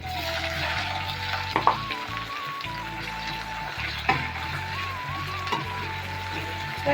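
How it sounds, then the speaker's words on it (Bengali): Chopped onion and garlic frying in hot oil give a steady close sizzle, broken by a few sharp scraping clatters of stirring, while a faint tonal hum runs underneath. "এখন ভাজা ভাজা হবে কিছুক্ষণ"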